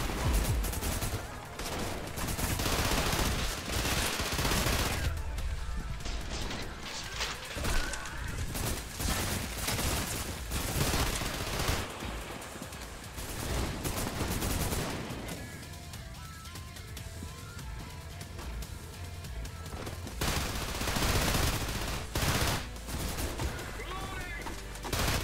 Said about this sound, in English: That motherfucker has a minigun!